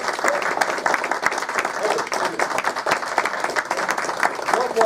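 Audience applause at a technical session of a conference: steady, full clapping from a crowd filling the room, with a voice speaking over it.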